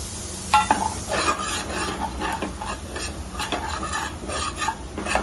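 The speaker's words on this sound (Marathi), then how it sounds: "तर हे सुरुवातीला हे मसाले सगळे टाकून देऊ." Spices sizzle and crackle in hot oil while a spoon stirs and scrapes against the pan, steady and close.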